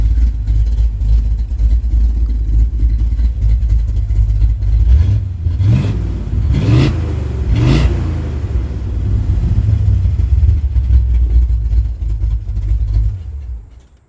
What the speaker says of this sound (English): So that's how she sounds. Cammed, little small block connected to a 5-speed manual